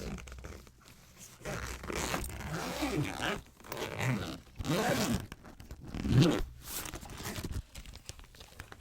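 A makeup bag zipper is drawn open in several close, scratchy pulls with soft rustling and handling noises in between, recorded quietly and intimately with no talking.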